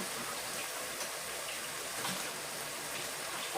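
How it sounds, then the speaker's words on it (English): Hot water runs from a tap into a bowl, a steady soft hiss and splash, faint and continuous with no talking. "While the hot water is running"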